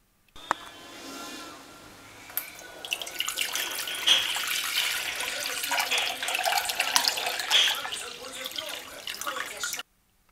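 Water pours steadily from a pot into a Sunflower thermos indoors, a continuous splashing, rising gurgle lasting about nine seconds before stopping abruptly.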